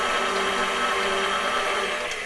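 An electric mixer beats a half cup of soft, room-temperature butter for a double batch of Martha Washington candy, giving a steady, close whirring motor drone with no talking over it.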